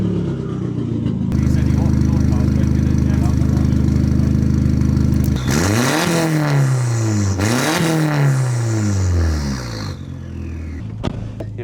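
A 1.8T VW Polo 9N with a loud straight-through exhaust idles with a deep drone, then revs hard through rising and falling sweeps as it pulls away, the close, loud engine note dropping off near the end.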